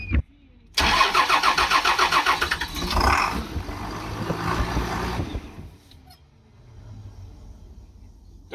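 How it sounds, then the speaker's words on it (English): A broken-down bus engine cranks with rapid rhythmic chugs for a few seconds, then catches and runs loudly before easing down to a quieter idle, heard up close. "So, Matthew, could you go outside and just look under the bus to make sure that nothing sprays or drips, so I can turn it off in a hurry?"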